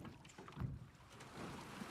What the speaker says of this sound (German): Jetzt hier einen Ton vom Wasserplätschern und vom Boot und so weiter.